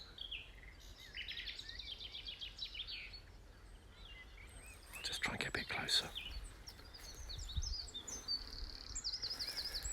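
A nightingale sings on rough heathland on the Suffolk coast on a spring evening, its faint, distant phrases of chirps and whistles coming and going, while a person whispers softly nearby.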